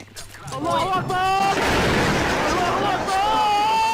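A bomb goes off in a video game: one loud, booming blast swells up and rumbles for over a second alongside warbling tonal game sounds, with no talk over it.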